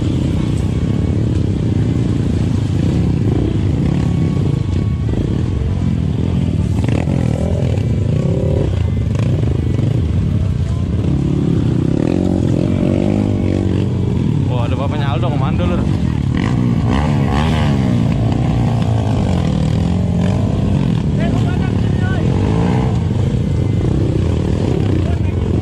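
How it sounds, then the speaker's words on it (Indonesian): Motorcycles rumble and rev continuously on a muddy off-road trail, loud and close throughout, while people talk over the engine noise. "Alhamdulillah motor pada sehat semua."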